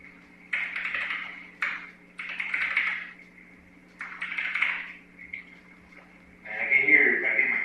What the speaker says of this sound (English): And I get my keyboard going tap, tap, tap, tap, tap,